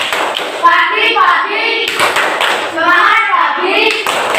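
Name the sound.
class clapping a cheer routine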